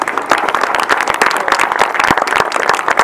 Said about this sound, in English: maybe they need to deserve a round of applause for the Wimborne Club.